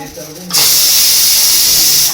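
A pressure cooker full of dal lets out a loud, steady whistling hiss of steam that bursts in suddenly after a quieter moment and holds strongly to the end.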